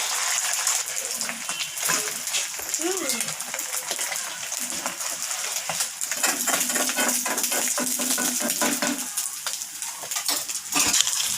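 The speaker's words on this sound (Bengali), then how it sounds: "তাওয়া গরম হয়ে গেছে তেল দিয়ে দিচ্ছি ডিমটা দিয়ে দিতে" Beaten egg sizzling in hot oil on a heated tawa, a bright continuous close-up crackle with scattered spatters and a few metallic scrapes, no voices.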